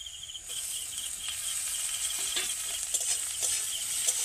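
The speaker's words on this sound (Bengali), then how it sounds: "ধনেপাতা খুব বেশি ভাজবো না, 2বার কি 3বার নেড়েই কিন্তু এটা নামিয়ে নেব" Chopped coriander leaves stirred into lightly fried onion in a pan for a prawn bharta, a soft continuous sizzle with scraping stirs and small crackles, close and fairly quiet.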